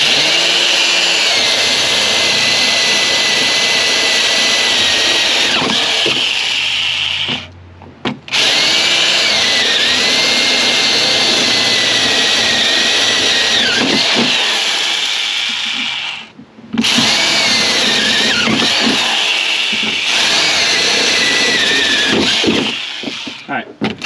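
An old single-speed power drill bores holes while building a bait pen, its loud steady whine running near the mic in long bursts that stop briefly twice, with a voice talking at moments.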